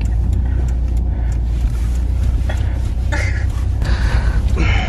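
A car pulls away slowly from a road blockage, its engine rumbling low and steady with road noise, close by, while faint voices and clatter come through in the background.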